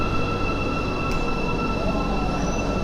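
Steady, loud rumble and hiss from inside a moving Istanbul metro train, with a constant high whine running through it and one faint brief click midway, and no talking.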